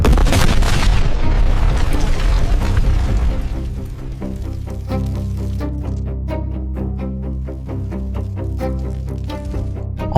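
A rocket-propelled grenade strikes a military helicopter in a battle zone: a loud, dense explosive blast rumbles at the start, then fades into a sustained tonal drone with rhythmic pulses.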